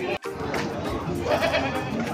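Goats bleat amid a busy livestock market stall selling bligon breeding stock, with dense crowd noise and chatter continuing steadily throughout and a brief drop at the start.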